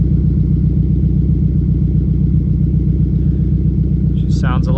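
A Subaru WRX engine with a newly replaced front MAF sensor idles smoothly up close, a steady low rumble holding constant throughout, with a brief chirping sound near the end.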